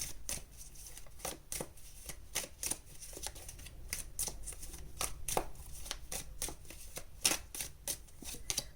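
A deck of tarot cards being shuffled and drawn, a rapid run of close, crisp riffling flicks and snaps repeating steadily throughout.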